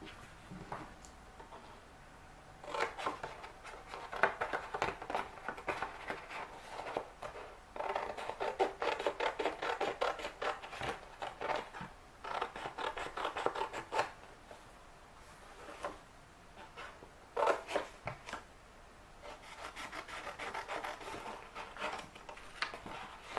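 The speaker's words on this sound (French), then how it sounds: "On va découper du petit rectangle jusqu'en haut." Scissors cutting paper rectangles for a handmade gift box, a run of small snips and rustles in irregular bursts, close and fairly quiet with no talking.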